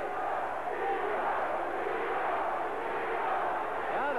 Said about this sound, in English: Now the crowd cheering Nino.